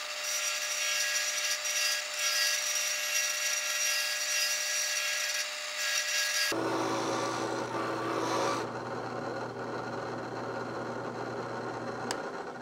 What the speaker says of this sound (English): This is a rotary burr. Set my drill press up to the highest speed.